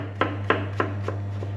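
A knife chops tomatoes on a board in four or five evenly spaced strokes, each a crisp thud, over a steady low hum.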